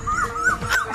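A dog gives short, high, yelping cries with a whining, rising and falling pitch, loud and near, with no one speaking over it.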